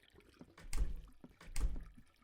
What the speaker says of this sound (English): There's like water running noises.